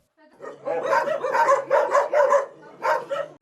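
Several stray dogs bark in a rapid, overlapping flurry nearby, with yips mixed in, loud and continuous for a few seconds.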